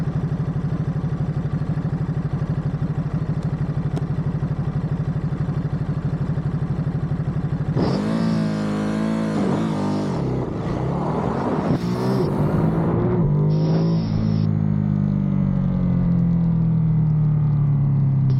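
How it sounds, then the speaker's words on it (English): A motorcycle idles with a steady, loud engine drone, then launches at full throttle in first gear, revving hard through rising sweeps and a shift before settling into a high, sustained roar, close and alone. "pull the clutch, engage first gear, and open full throttle"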